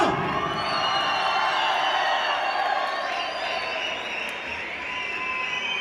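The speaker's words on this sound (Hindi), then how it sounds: "जोरदार तालियों में बताइएगा" A crowd claps and cheers, with whoops and shouts rising over sustained applause that slowly fades.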